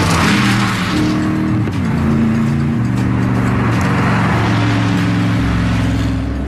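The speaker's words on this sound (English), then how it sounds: "the only thing disturbing the peace are light aircraft and the occasional low-flying supercar" A Gumpert Apollo supercar drives at a regional airfield, its engine loud and near with shifting revs and gear changes over a sustained roar, and no voices.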